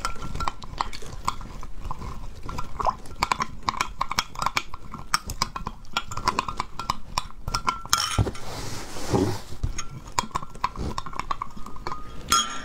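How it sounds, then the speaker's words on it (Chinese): A utensil stirs cold water into something diluted from a 500 g jar, clinking steadily against the bowl in a quick, repeated rhythm, close and moderately loud with no talking. "搅一下。"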